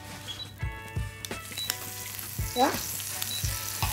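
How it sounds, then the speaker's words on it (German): Steady frying sizzle of butter in a hot frying pan, with scattered clinks and scraping stirs, and a brief spoken word partway through. "Ich werde jetzt gleich schon mal die Butter in die Pfanne geben."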